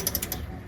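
Wrench with an extension ratchets against a rusted bolt, a quick run of four or five sharp clicks close by, followed by a quieter mechanical hum.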